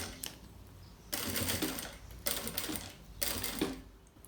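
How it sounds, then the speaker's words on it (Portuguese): A sewing machine stitches fabric pockets for a nail polish case in three separate bursts of rapid mechanical chatter, with short quiet pauses between runs and no talking. "e eu vou passar uma costura em cima e uma costura embaixo"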